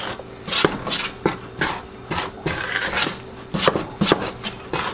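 Deep dish pizza dough being stirred and mixed with a spoon in a bowl, giving repeated scraping, rubbing knocks in an irregular rhythm, close and fairly loud with no voices.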